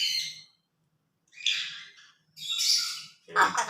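A talking grey parrot squawks in short, harsh, close bursts, three or four calls separated by brief silences, loud and raspy against a quiet indoor background.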